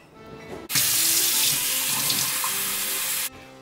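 A water tap turns on abruptly and runs in a steady, loud rush for about two and a half seconds to fill a glass, then shuts off sharply, leaving only quiet room noise.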